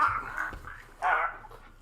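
A dog whimpers in high, thin whines, with a short louder yelp or bark near the end, fairly close and without other voices.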